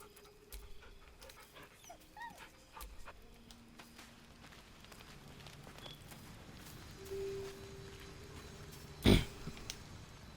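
A dog in the video game Baldur's Gate 3 whimpering softly and panting in quiet, faint bursts, with a brief louder sound near the end.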